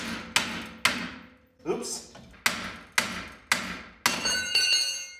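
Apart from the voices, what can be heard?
hammer striking a pickle fork to undo steering linkage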